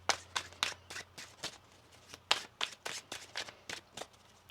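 Tarot cards being shuffled by hand, a series of crisp riffling bursts and soft slaps repeating at a quick, irregular pace, close up.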